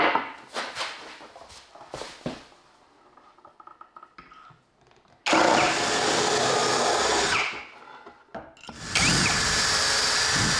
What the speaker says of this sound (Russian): с помощью специального мебельного кондуктора, вот так он выглядит, буду делать отверстия.